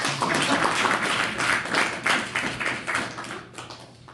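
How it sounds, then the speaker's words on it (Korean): Audience in a classroom presentation on power thread-cutting machines gives a round of applause, dense steady clapping throughout that tapers off toward the end, with no talk over it. "박수 한 번만 주시면 감사하겠습니다"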